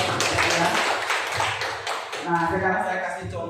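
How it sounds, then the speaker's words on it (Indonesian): Clapping and tapping from a classroom group of students, a busy patter of hands overlapping with talking voices throughout. "Oke, tepuk tangan dulu buat Bapak."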